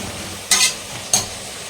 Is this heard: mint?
yes